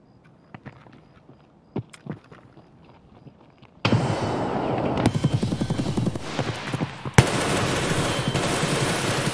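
Grenade explosions in a first-person shooter game, a burst of loud blasts and crackling gunfire that erupts suddenly after quieter thuds and footsteps, with a sharp extra bang near the end.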